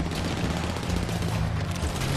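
Dense gunfire during a GTA 5 Online heist job, a continuous loud rattle of shots and booms packed together without pause, with no voice heard.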